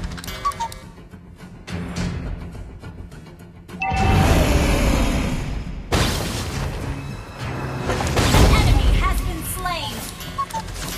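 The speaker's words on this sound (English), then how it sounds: "Your team destroyed a turret." A turret blows up in the mobile game Mobile Legends, producing a loud, booming explosion burst with crashing debris, surrounded by ticking game effects and spoken game audio.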